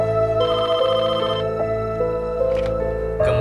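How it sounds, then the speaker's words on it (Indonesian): A telephone rings in a tense horror-movie scene, its electronic tone repeating in short bursts over a dense, sustained musical score. "Kemudian lagi-lagi telepon pun berbunyi"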